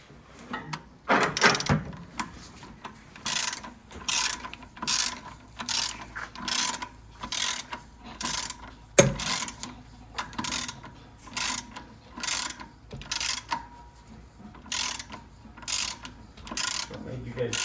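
Ratchet tightening the lug nuts on a 1931 Ford Model A pickup wheel, a close, regular series of clicking strokes that repeats steadily with short gaps between them.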